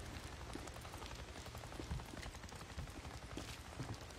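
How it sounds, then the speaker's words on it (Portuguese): Steady, soft rain in a video game patters continuously with scattered faint drips, a quiet even wash of sound with no voices. "Eu acho que é porque tá chovendo."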